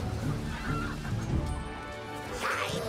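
Cartoonish chickens in the mobile video game Arclight Rumble squawk and cluck repeatedly over a dense, busy wash of battle sound effects.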